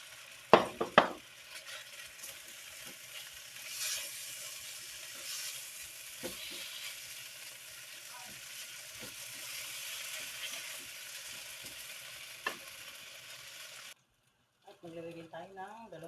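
Fried tofu sizzling and being stirred in a pan for a mung bean stew, opening with a few sharp utensil clacks, then a soft continuous sizzle with scattered scrapes. A voice briefly speaks after it cuts off.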